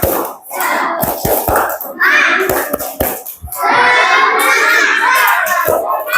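A class of children claps in a quick rhythmic pattern, with several sharp, loud hand strikes between bursts of excited shouting and chanting voices close by.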